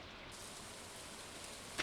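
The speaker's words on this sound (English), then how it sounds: "But it's raining today." Steady, soft rain in the video game Stardew Valley, a faint even patter, with a single small click near the end.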